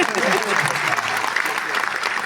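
An audience at a Hindi poetry recital claps in a steady burst of applause, a dense crowd sound that holds evenly throughout.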